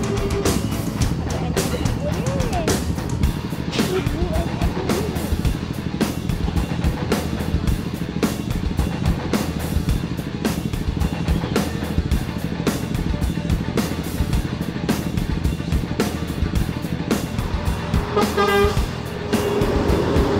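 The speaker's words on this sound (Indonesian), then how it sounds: "Terlihat bus Bintang Kejora meninggalkan Terminal Bersolo menuju Jakarta." A Bintang Kejora bus pulls out of Terminal Bersolo bound for Jakarta, sounding loud repeated horn toots over a steady rumble of engines and busy terminal noise.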